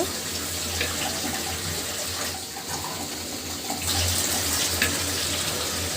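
Broth poured into a pot of beef and new potato curry, a steady close watery pouring and splashing that runs throughout and swells slightly toward the end, with no talking.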